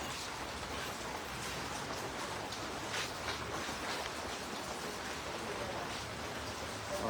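Steady rain falling throughout, an even, dense wash of noise at low loudness with no pauses and no speech over it.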